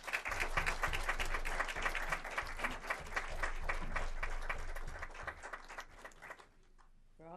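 An audience at a school board meeting applauds honorees with steady, fairly dense clapping that carries on for several seconds, then tapers off and stops near the end, leaving a quiet room.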